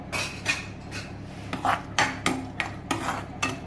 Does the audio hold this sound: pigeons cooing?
no